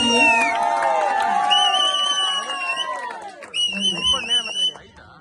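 A crowd at a village event in Hittalahalli, Kunigal taluk, cheers and shouts loudly with whoops and lively voices, the noise swelling at first, then easing before another burst near the end.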